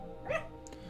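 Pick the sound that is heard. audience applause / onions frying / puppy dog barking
puppy dog barking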